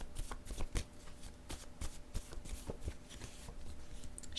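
Paper word cards slide and riffle from a deck in a quick run of soft, crisp flicks and taps, close and fairly quiet, with no voice over them.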